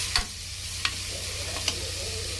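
Tomatoes sautéing for mushroom biryani, a steady sizzle broken by three evenly spaced scraping stirs of a spoon against the pan, close and moderately loud.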